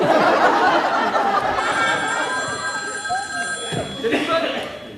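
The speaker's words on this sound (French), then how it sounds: "Téléphone." An old telephone bell rings steadily, sitting under talk and a bit of laughter in a room. In the last second it thins out, and a voice speaks over it.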